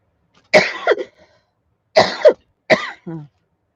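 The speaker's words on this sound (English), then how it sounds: "I can't stop coughing" Several loud, raspy coughs in three bursts, the first two drawn out, the last ending in a short throaty sound, with silence between.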